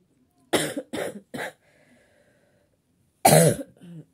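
Three quick coughs in a row from a person with COVID, then a quiet pause with faint breath, followed by one louder, rougher cough up close.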